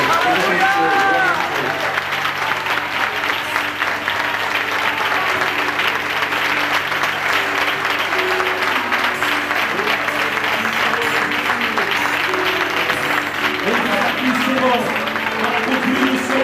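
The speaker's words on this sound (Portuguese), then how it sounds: "Vamos aplaudir ao Senhor." Audience applause fills a hall at a 2002 youth church camp, steady broadband clapping running the whole time, with singing or voices and some music mixed in underneath.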